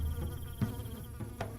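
Hornets or bees buzz in a dense continuous drone, steady and close, with a few soft knocks in the short stretch.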